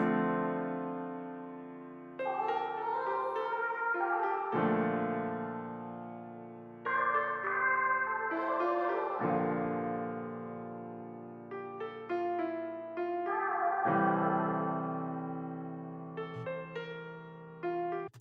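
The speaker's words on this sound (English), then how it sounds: "so all together, our melodies sound something like this." A full beat melody built in FL Studio blends a low sustained chord layer with bright pitched vocal chops. Chords change every few seconds under shifting, stuttering upper notes, playing quietly on their own with no speech.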